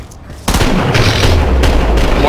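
Grenade explosions in Team Fortress 2, a sudden loud blast followed by continued booming and battle noise, close and heavy, with speech mixed in.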